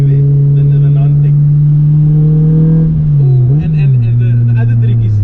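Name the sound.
Honda Civic B20 non-VTEC engine revving loudly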